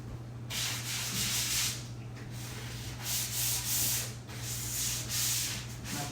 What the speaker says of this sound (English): after I sand this, I'm going to kind of look for any shiny spots.